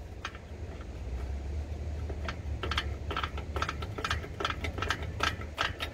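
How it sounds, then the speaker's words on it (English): Rear brake shoe adjuster on a 1993 Ford Bronco with a 5.8 engine, turned by hand, making a quick run of small, close metallic clicks with irregular spacing over a faint background hum. "actually you can hear it clicking"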